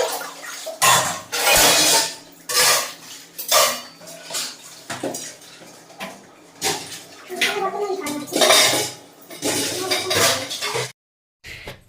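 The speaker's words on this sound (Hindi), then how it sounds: "बर्तन तो क्लीन हो चुका था" Dishes, pots and pans are washed at home, with repeated clattering of metal and cutlery and bursts of running water in an irregular rhythm over about twelve seconds.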